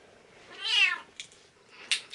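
A kitten lets out a clear, close meow followed by a couple of shorter, fainter mews.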